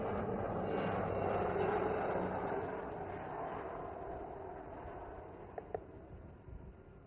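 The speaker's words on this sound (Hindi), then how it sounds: "एक थल सेना की recce and observation Chetak helicopter को दिशा देने के लिए भेजा गया है" Indian Army Chetak reconnaissance and observation helicopter flying over the Pokhran field firing range during a military exercise, a steady broad engine and rotor drone that swells and then slowly fades, with a few sharp knocks near the end.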